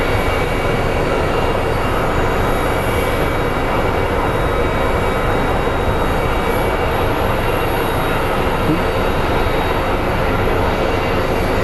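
An Envoy regional jet arriving at Phoenix Sky Harbor airport produces a constant broad engine roar, loud and unbroken throughout, with no voices.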